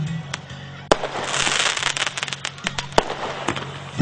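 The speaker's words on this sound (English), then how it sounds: "fireworks" Fireworks go off at a 2015 school annual day at Podar International School, Gaya. Dense crackling bursts and sharp pops come loud and close, with several stronger bangs spaced through the stretch.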